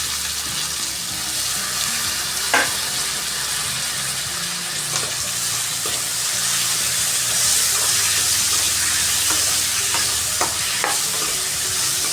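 Chopped tomatoes frying in a pan for a rohu fish curry, a steady dense sizzle with occasional stirring clinks and scrapes, close and continuous throughout with no voices.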